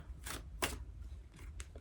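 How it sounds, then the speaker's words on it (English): A tarot card deck is shuffled, giving a few quick, soft papery riffles and flicks in short bursts, close and quiet with no talk. "So I will shuffle my deck and see what I'm going to be reading next."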